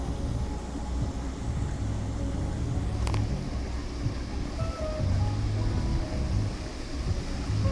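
A waterfall at an outdoor wedding ceremony site gives a constant, rushing roar of falling water. It stays at even loudness throughout with a low rumble underneath.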